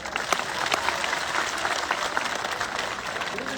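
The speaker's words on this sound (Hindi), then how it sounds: "एक बार जोरदार तालियां बजा।" Loud, enthusiastic applause from a large crowd gathered under a pandal at a religious gathering in Jalore, a continuous wash of clapping throughout.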